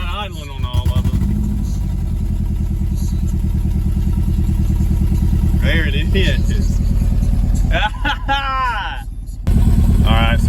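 A Nissan 240SX S13 engine idling after its first start in over a decade, a loud steady close rumble with clattery texture, while people talk over it briefly.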